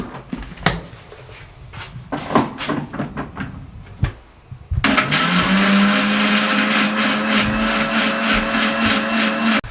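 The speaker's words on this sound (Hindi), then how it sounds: "ये इतना सा बस पुदीना शामिल कर दें और इसको अच्छे तरीके से ग्राइंड कर लें" A blender grinds mint and other herbs into an anardana (pomegranate seed) chutney. A few knocks and clatters come first, then the motor starts and whirs loud and steady for the last half.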